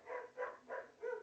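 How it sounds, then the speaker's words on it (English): Dogs barking at home, four evenly spaced barks at moderate distance, fairly faint and alone with no talk over them. "Can you hear my dogs barking?"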